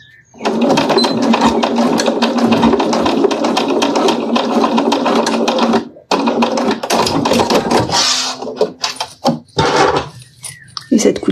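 Sewing machine stitching close along the edge of thin fabric, a loud fast whirring run that pauses briefly, then resumes in shorter bursts with clicks, while a person speaks over the later part.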